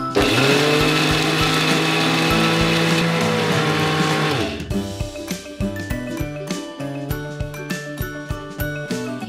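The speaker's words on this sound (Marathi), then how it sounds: "आता ह्याला आपण मिक्सरमध्ये फिरवून घेऊया." A kitchen mixer grinder whirs loudly and steadily, grinding a mixed-lentil chutney with tamarind powder for about four and a half seconds, then cuts off abruptly as rhythmic music takes over.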